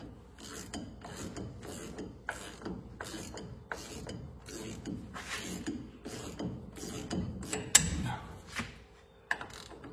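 A 1/2 inch drive socket wrench ratchets in a workshop, with about a dozen short bursts of clicking in a steady back-and-forth rhythm, close by and moderately loud.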